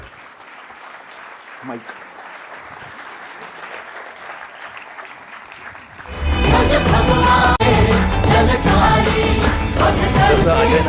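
Audience at a Marathi music event bursting into loud, sustained applause that fills the room, following a stretch of quiet talk and murmur at lower level.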